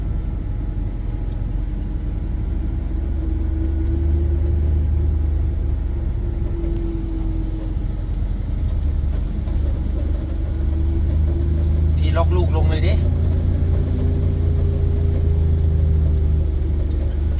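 A small car rolls down a steep mountain road in the rainy season, its brakes held on as it descends, giving a steady low engine rumble with a brief higher squeal midway, while voices talk inside the cabin.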